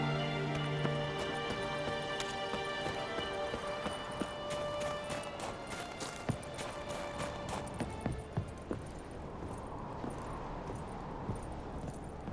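Horse hoofbeats in The Witcher 3 video game, a steady clip-clop cadence at moderate distance over a layered game soundtrack, with the rhythm loosening toward the end.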